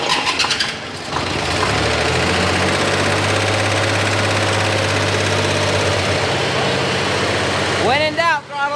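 An off-road vehicle engine runs steadily and loudly with a clattering, knocking idle, one side of it badly adjusted and its exhaust pipe sucking in instead of pushing out; a voice briefly speaks near the end.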